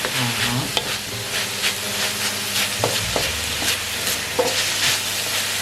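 Pork stir-fried with spices and vegetables in a hot pan for a Thai drunken-noodle-style pad kee mao dish, with loud continuous sizzling and repeated scraping stirs close up.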